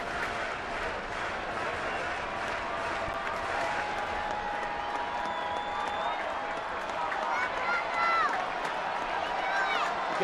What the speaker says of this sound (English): Yep, he's cheering his heart out for his Panda.